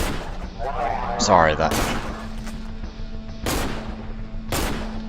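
Several loud gunshots ring out in the horror game Cry of Fear, widely spaced single cracks over a steady hum, with someone speaking just before them.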